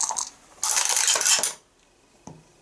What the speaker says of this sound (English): Now, Tommy Muldoon with his two dice